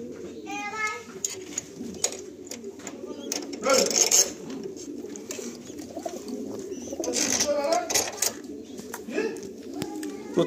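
Breeding pigeons, including Kalanka pairs with eggs and chicks, coo and rumble continuously in a loft, close and steady. People talk over them throughout.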